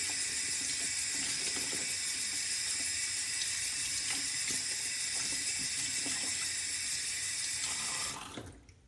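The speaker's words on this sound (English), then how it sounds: "let's clean up this brush so you can see it a little better" A Phoenix Green Ray 24mm shaving brush is rinsed under a running tap, making steady loud splashing water into a sink that continues for several seconds before the flow is shut off near the end.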